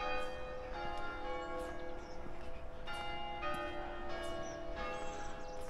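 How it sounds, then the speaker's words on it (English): Church bells ring out across the village of Tideswell, heard from a high vantage point with steady overlapping strikes that sound moderately distant and sustained, with no talking. "And we're privy to the bells once again."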